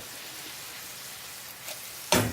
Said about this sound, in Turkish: körünün de ve kırmızı biberin de aynı zamanda şöyle baharatların da kavrularak yağının tadına geçmesini istiyorum